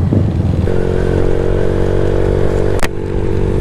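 A group of motorcycles, including an NMAX scooter, CRF dirt bikes, an R15 and a Sniper, rumble steadily at close range with continuous engine drone and a sharp scrape near the end.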